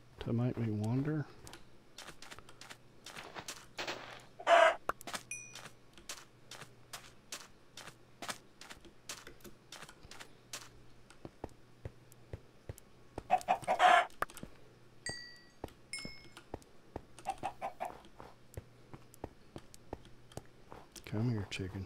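Chicken clucks from a Minecraft game, short bursts scattered across the scene, with typing-like clicks, a low steady hum and a player's voice.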